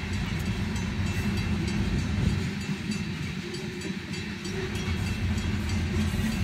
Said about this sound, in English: So it's definitely a bog standard manifest train,